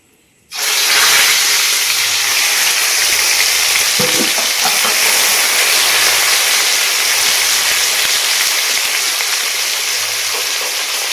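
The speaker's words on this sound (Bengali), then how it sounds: "এবার আমি দিয়ে দিচ্ছি রসুন বাটা" Garlic paste hits hot oil for a village-style desi chicken curry, setting off a loud, dense, continuous sizzle that holds steady, with a few faint spoon scrapes underneath.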